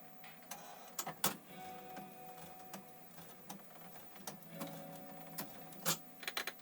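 A home sewing machine runs a simple zigzag stitch at a 5/8 inch seam allowance, giving quiet, uneven whirring with scattered sharp clicks and taps, faint and close.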